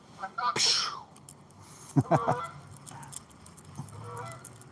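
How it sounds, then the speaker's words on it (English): Geese honking near a fishing spot by rocky water, a few loud calls in bursts with a person speaking intermittently between them. "darn geese"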